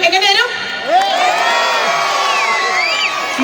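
A live concert crowd cheers and whoops with shrill shouts, children's voices and clapping, loud and close in a dense, continuous burst.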